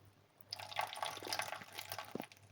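Excess water is drained off soaked sabudana and samo millet, a soft trickling and dripping pour that runs close and fairly quiet for about two seconds, with a few splashy drips near the end.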